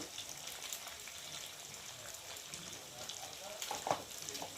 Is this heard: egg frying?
yes